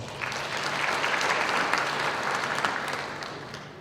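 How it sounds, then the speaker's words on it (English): Steady, full applause from a large conference audience, dense and even throughout with no talking on top. "Let us give them a round of applause."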